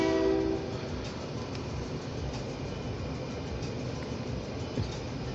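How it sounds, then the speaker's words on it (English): OC&T freight train approaching on the line near the Perry Street station in Titusville, Pennsylvania: a short horn blast at the start, then a steady rolling rumble of railcars at moderate distance, with no talking. "We got an OC&T freight train coming."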